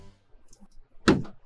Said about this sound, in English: These doors close, which is, I think, an awesome feature.